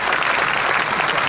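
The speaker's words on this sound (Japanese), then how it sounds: "皆さんもう一度大きな拍手で" A brief, dense burst of audience applause fills a baseball stadium in Japan just before the first pitch, steady and loud throughout.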